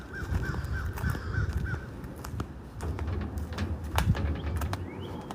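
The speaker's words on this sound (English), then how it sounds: "Here comes the birds." Crows caw in a short run of repeated calls near trees along a foraging walk, followed by scattered bird sounds and clicks over low outdoor rumble.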